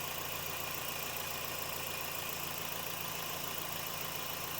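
A warmed-up Scion xB engine idles steadily at operating temperature after a transmission fluid change, a continuous even hum with no voices.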